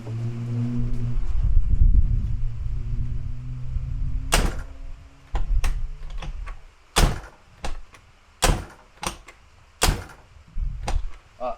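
A 1995 Mini's car door thuds shut after a door lock repair, followed by several more sharp, spaced slams and clicks as it is opened and closed repeatedly.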